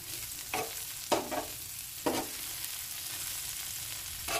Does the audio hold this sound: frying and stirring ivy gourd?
yes